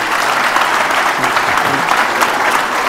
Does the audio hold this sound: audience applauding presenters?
yes